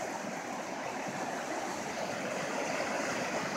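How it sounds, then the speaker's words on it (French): A fast-flowing high river rushes past a camp, producing a dense, steady roar of churning water that stays loud and close throughout, with no speech over it. "Mais regarde la rivière"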